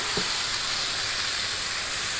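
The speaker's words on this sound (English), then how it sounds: "We're gonna put our chicken in. And if it don't sizzle, something's wrong." Chicken sizzling in a hot pan, a dense steady hiss and crackle that fills the whole stretch without pause, with a small clunk near the start and no talk.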